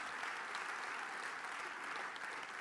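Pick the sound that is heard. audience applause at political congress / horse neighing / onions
audience applause at political congress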